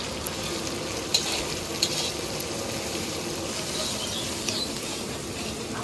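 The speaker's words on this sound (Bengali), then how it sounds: "আমার পেঁয়াজটা সুন্দর করে লাল করে ভেজে নিচ্ছি" Onion fries in a pan with ginger-garlic paste, cumin, coriander, salt and chilli: a constant close hiss of frying oil with a few light clicks of stirring.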